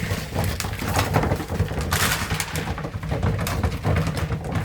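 Homing pigeons in a loft give a soft, continuous low cooing, with rustling and fluttering noise close by throughout.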